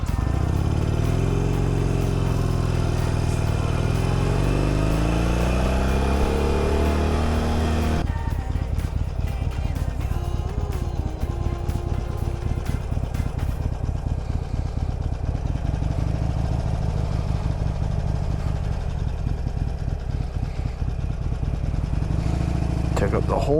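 A 1275 cc engine runs steadily and loudly throughout, with a rising revving pitch in the first seconds, then a rougher, clattering idle-like drone, no speech.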